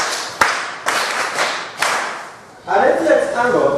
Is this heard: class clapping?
yes